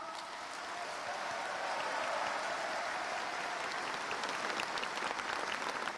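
Applause from a crowd at a Liberation Day ceremony address by President Moon Jae-in, swelling in the first second into a broad, sustained wash of clapping that holds steady to the end.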